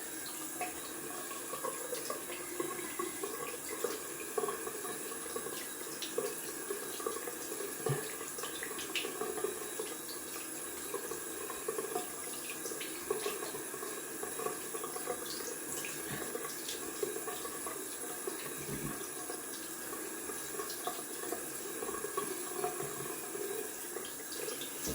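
Tap water runs steadily into a bathroom sink for rinsing after a wet shave, a soft, continuous hiss and splash heard at a modest distance with small irregular drips and bumps.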